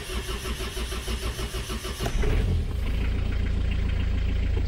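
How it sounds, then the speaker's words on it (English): A Kubota diesel engine cranks with a rhythmic starter churn for about two seconds, then catches and settles into a loud, steady idle, close by and without any talk. "You switch on, start the engine."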